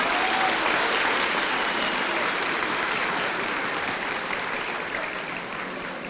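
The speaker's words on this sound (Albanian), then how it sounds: "Një duartrokitje për prindërit tanë, ju lutem." Steady, dense applause from a large audience at a graduation ceremony, honoring the parents, holding at a loud, even level for about six seconds before easing slightly at the end.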